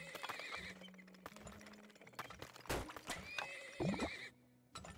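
Horses in the video game Turmoil whinny in short bursts over clip-clopping hooves, with bright game sound effects layered on top.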